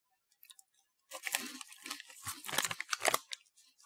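Chocolate cereal pieces from a Japanese snack box crunched in the mouth, a burst of dry crackly chewing that starts after a quiet second and continues in quick irregular crunches, close and fairly loud.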